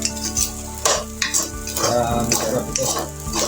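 Leftover rice frying and being stirred in a pan with garlic, onion and ketchup, a steady close sizzle broken by repeated scraping stirs, with a voice speaking briefly.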